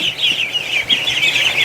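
Muscovy ducklings peep in a dense, continuous high-pitched chorus, close by, with soft shuffling and flutters underneath and no talking.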